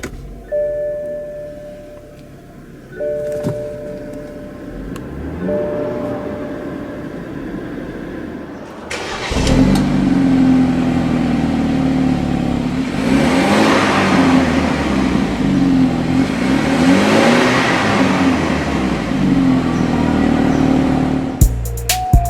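A 2013 BMW 328i xDrive with a turbocharged engine starts up with a few clicks and chimes, then pulls away and accelerates with a loud, steady engine drone that rises and falls over about twelve seconds.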